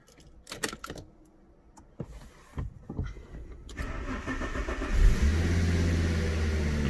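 A Fiat Coupe with a holed radiator is started after a few clicks and clunks, the starter cranks and the engine catches with a loud burst, then settles into a steady close idle.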